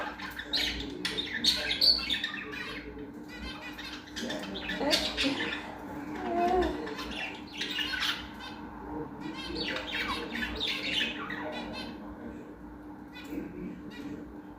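Pet lovebirds squawking and chirping in busy, overlapping bursts nearby, with scratchy calls coming and going over a steady low household hum.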